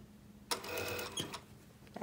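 A sewing machine stitches a knife-edge bolster in a short burst of rapid mechanical clatter, close and fairly quiet, stopping and restarting once.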